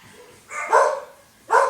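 Several dogs barking indoors, two loud separate bursts of barks close by, with quiet pauses around them.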